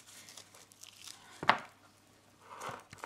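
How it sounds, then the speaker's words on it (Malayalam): A knife cuts through sticky raw jackfruit on a board, with one sharp, crisp chop standing out in the middle among softer scraping and cutting sounds, close and fairly quiet. "അപ്പം ഞാൻ ഈ ആ ചക്ക മൊത്തം അരിഞ്ഞ് ഉപ്പുവെള്ളത്തിൽ ഇട്ടേക്കുവാണ്."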